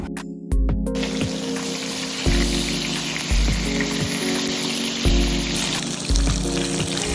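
Katla fish frying in hot oil, a dense continuous sizzle close up, with a few brief clattering bursts at the start.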